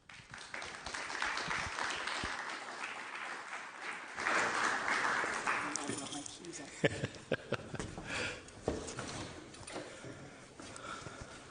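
An audience applauds to welcome a speaker, a sustained wash of clapping that fades as he starts speaking.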